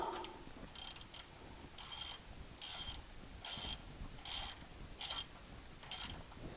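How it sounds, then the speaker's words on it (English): A ratchet torques down screws while a thermostat is being replaced. About eight evenly spaced bursts of crisp, close clicking ring out with short pauses between them, and no one speaks. "Now I'm only torquing this down to about 12 to 15 pounds."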